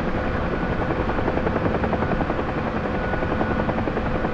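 A UH-1H Huey helicopter comes in to land in the DCS World flight simulator, its rotor thudding in a steady, loud, continuous beat with a buzzing turbine whine, heard alone.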